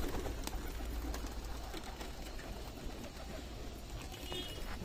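Pigeons coo softly at a loft under steady broadband background noise, with a faint occasional wing flutter. The calls are distant and partly masked.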